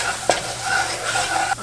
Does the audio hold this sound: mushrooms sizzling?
yes